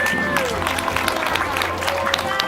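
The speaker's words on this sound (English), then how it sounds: "Let's give them a big round of applause" Audience applause and scattered cheering from a crowd at a SeaWorld San Diego orca show, steady dense clapping across the stands with crowd hubbub and a presenter's amplified voice over it.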